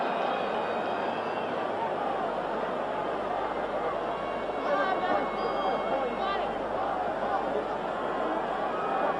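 Football stadium crowd at a 1974 Barcelona versus Leeds United match, a steady wash of distant murmuring and chatter that swells slightly midway as the fans react to a rough foul.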